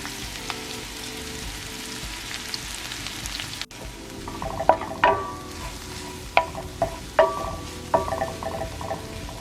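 Onions fry in Miyoko's vegan butter in a pan for caramelizing, a steady soft sizzle with several sharper clacks and scrapes of stirring in the second half, no talk.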